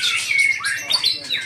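A white-rumped shama (murai batu) sings at a songbird contest, its bright, rapid whistles and chirps loud and close in a dense, continuous stream of varied phrases.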